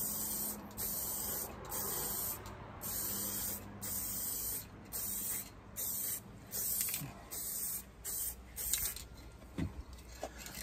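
Short hissing bursts from a spray can lay coats of paint on a Porsche Boxster, about a dozen quiet pulses with brief gaps between them, close by and faint, no talking.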